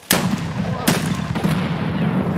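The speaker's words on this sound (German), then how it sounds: "Da hat auch eine Granate gefeuert" A grenade launcher fires in the video game Escape From Tarkov, with two sharp, loud booming blasts under a second apart, each trailing off into a rumbling echo.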